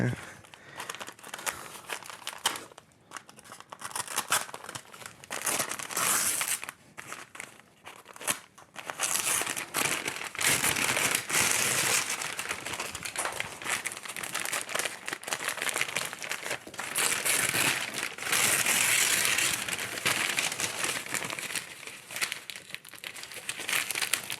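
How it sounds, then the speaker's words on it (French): A tightly packed parcel holding a philodendron is unwrapped up close, with loud, continuous plastic crinkling, crackling and tearing in long bursts and a few brief pauses. "Super bien emballé. Difficile à ouvrir."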